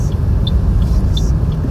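A BMW rumbles steadily along a road in a Finnish snowstorm, with a loud, continuous low engine and road roar heard close from inside and no speech.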